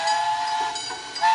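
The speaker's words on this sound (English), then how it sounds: "Train." A steam train whistle blows in a children's learning game, a bright steady hiss-laden tone sustained across the whole short clip with no voices over it.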